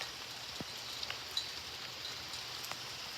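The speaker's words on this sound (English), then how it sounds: "The rain's getting harder, as you see." Heavy rain pours steadily during a tornado watch, a dense hiss of falling water with scattered individual drop hits close by, continuous and moderately loud with no talking.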